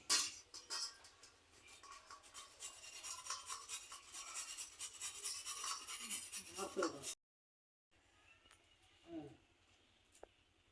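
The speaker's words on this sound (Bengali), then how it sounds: "এখন আমি গাজরটা কুচিয়ে নিচ্ছি" Carrot being grated by hand in a home kitchen, a continuous rough rasping scrape that runs for several seconds, then a pause and a few faint clinks and rubs.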